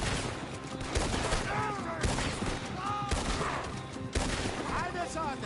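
Rapid gunfire from a shootout in Red Dead Redemption 2, dense overlapping shots with sharp bursts about every second, mixed with game effects and some background voices.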